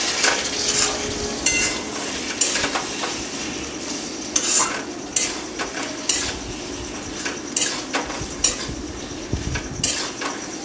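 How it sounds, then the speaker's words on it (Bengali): Chicken sautéing in a pan for kosha, with a steady sizzle under repeated scraping, clinking stirs of a utensil against the pan at irregular intervals. "কষা হচ্ছে, চিকেনটা কষা হচ্ছে"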